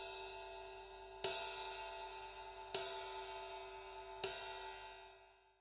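Three separate drumstick strikes on the bow of a cymbal, each a bright, shimmering metallic wash that rings out and slowly fades before the next hit. The strikes are close and spaced about a second and a half apart.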